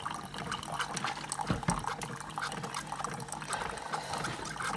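Creamer is poured into a cup of coffee, a continuous close liquid trickle and splash with faint clinks, filling the cup steadily for several seconds with no talking.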